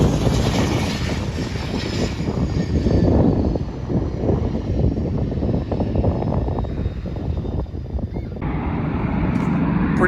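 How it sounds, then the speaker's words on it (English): A Beechcraft BE-40 jet lands at Addison Airport with a loud, sustained roar and a rushing whine that fades slightly toward the end. "Here's a BE-40 landing right now at Addison Airport."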